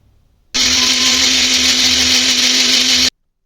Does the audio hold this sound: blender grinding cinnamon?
yes